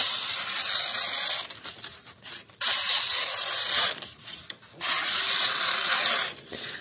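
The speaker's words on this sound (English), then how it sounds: "So you can hear a bunch of tearing and stuff." A Bestech Sapphire folding knife slices and tears through an old sheet of paper, giving long rough rasping strokes broken by brief pauses, close and fairly loud with no talk over it.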